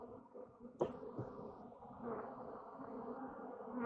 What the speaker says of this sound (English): there's a lot of bees on the wall.